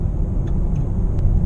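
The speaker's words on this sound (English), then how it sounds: "Mostly all I hear is tire noise." Inside a Volvo V60 Cross Country cruising at about 50 mph, a steady low tire roar and road rumble fill the cabin, constant and fairly loud, with no talking.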